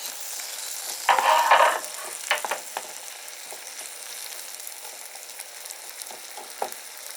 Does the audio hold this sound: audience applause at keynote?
no